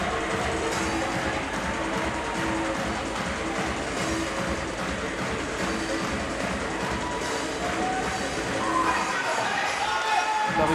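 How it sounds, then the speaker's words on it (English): A packed boxing arena crowd roars and cheers for a fighter's entrance at a featherweight title bout, a dense, continuous wall of loud noise that never lets up. "This is certainly pumping up the crowd here."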